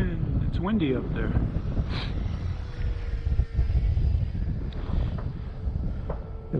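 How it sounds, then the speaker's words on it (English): Gusty wind buffets the microphone at an outdoor flying field while an Arrows Viper electric ducted-fan RC plane flies, a loud continuous low rumble with surging gusts and a faint high whine from the plane above. "The wind, it's windy up there."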